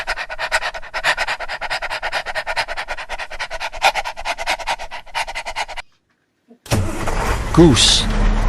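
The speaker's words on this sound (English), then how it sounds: "dog." A dog pants rapidly and rhythmically close up for several seconds, then the panting stops and after a brief gap a different rumbling noise takes over.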